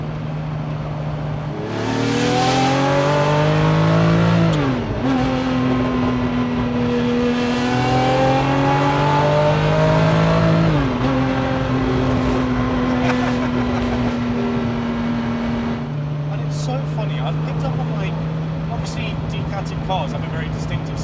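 A Ferrari F50 fitted with a Capristo exhaust revs hard twice, each time with a rising wail that drops off sharply, then settles into a steady, resonant idle at close range.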